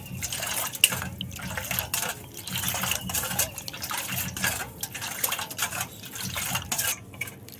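Water with powdered sugar and food colouring stirred by hand in a container, a steady run of clinking, scraping spoon taps and swirling liquid that carries on throughout at close range.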